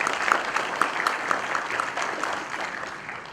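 Audience applause at a leadership event with a full house, a steady wash of many hands clapping at moderate loudness for the whole stretch, slowly easing toward the end.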